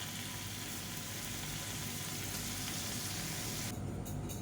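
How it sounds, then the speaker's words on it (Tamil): Paneer cubes frying in oil in a pan over a medium flame, a steady, faint crackling sizzle that continues evenly throughout with no voices. "இப்போ இந்த பன்னீரை நல்லா கோல்டன் கலரில் எல்லா சைடும் வர மாதிரி போட்டு வறுத்து எடுத்துக்கலாம்"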